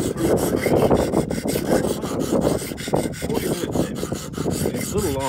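A Buck 110 knife blade is sharpened at 23 degrees on a Wicked Edge sharpener with 200 grit diamond paddles, producing close, steady rhythmic rasping strokes back and forth, loud and continuous with no talking.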